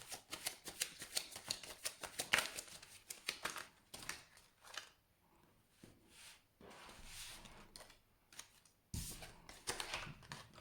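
Tarot cards being shuffled close up, quick riffling bursts of crisp flicks and slaps in uneven clusters, with a short pause midway before a final run of shuffling.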